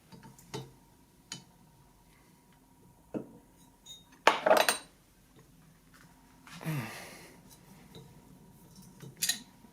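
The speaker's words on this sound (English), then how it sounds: "remove this nut right here, which is I like to do with a pair of channel locks" Channel lock pliers working a nut off a Thunderbolt Model 2 chopper armature, heard as sparse close metallic ticks and clanks, a couple of louder scraping clatters, in an otherwise quiet room.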